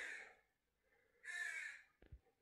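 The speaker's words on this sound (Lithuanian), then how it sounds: "3 varnas prie durų, žodžiu, sėdi rėkauja" Crows caw outside near a door, two loud harsh calls with a gap between them, followed by a brief low thump.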